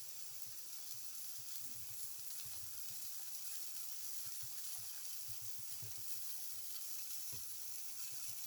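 Black pepper tomato omelette frying in a pan, a faint steady sizzle and hiss with small crackles, continuous and quiet.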